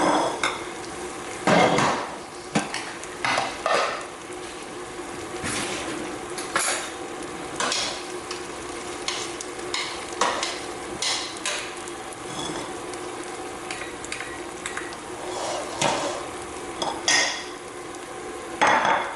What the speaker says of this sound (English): Finish giving it a few more stirs.